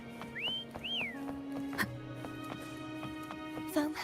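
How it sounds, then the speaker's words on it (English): A person whistles two short rising-falling notes to call Foam in a video game, clear but quiet, followed by a steady tonal game background and a faint voice. "Try whistling"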